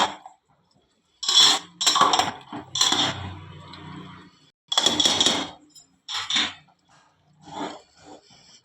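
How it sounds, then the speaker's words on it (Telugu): Rice for bagara rice is stirred in a metal pot in bursts, with loud clanking and scraping of the ladle against the pot and short quiet pauses between strokes. "ఇప్పుడు మొత్తం కలిసేటట్టు కలుపుకోవాలి"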